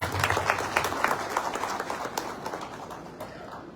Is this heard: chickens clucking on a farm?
no